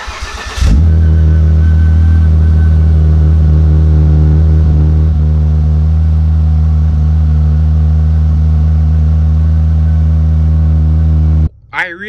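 A Volvo S60 T6 R Design engine revs up and pulls hard with a strong, steady drone heard from inside the car, cutting off abruptly near the end.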